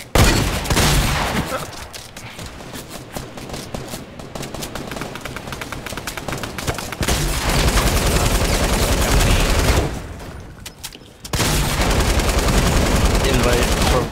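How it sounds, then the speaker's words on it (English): Gunfire in the Fortnite video game, dense, loud bursts of rapid automatic shots continuing for many seconds with brief pauses and only background chatter mixed in. "they're shooting at me"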